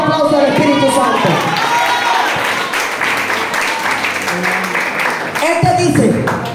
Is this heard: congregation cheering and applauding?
yes